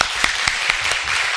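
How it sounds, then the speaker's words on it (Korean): Church congregation applauding during a Sunday service, a steady wash of clapping with several sharper individual claps standing out, moderately loud and close in a worship hall. "우리 박수로 또 격려해 주는 시간을 갖습니다"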